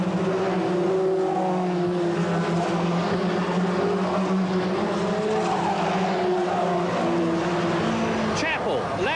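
Touring cars at a 1989 British Touring Car Championship round at Silverstone, several engines roaring loud and close through Copse corner with overlapping revving drones and a brief tyre squeal, under continuous race commentary.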